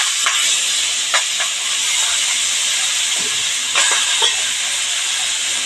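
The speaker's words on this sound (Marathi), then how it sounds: "आता त्यावर आपण ही मेथीची भाजी चिरलेली घालणार आहोत." Chopped fenugreek leaves dropped into a hot spiced-oil tempering give a loud, continuous hiss, with a few sharp crackles on top.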